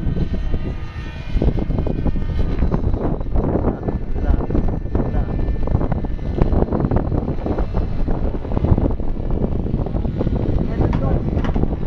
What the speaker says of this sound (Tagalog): Rinig na rinig mo yung hangin,